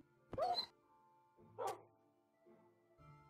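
Minecraft dog barks in the video game, two clear sharp yaps about a second apart followed by softer whining tones, close and alone over near silence.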